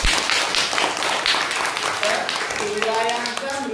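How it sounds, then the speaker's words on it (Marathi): A classroom group claps together, a loud and sustained burst of applause close by, with some voices mixing in toward the end. "टाळ्या वाजवा."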